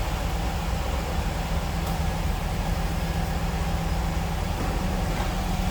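A 1997 Pontiac Firebird Formula's engine idles steadily and close by, a smooth, continuous low hum with broadband hiss and no talk over it.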